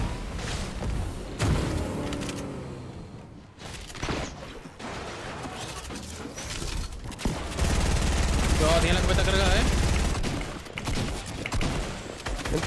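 Gunfire in a shooting video game: repeated bursts and rapid volleys of shots, loud and close, with excited voices talking and shouting over the shooting throughout.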